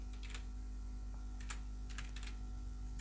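Keys clacking on a computer keyboard in short quick bursts as a subject line gets typed, over a low steady hum; close and clear, no talking.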